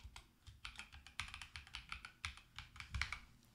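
Fingers tap rapidly on a computer keyboard, a quick uneven run of close, faint clicks with no voices.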